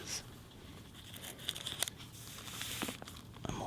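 Crunchy, brittle pages of an old Bible being handled and turned up close, giving soft crinkling and tearing-like rustles in irregular bursts at low volume.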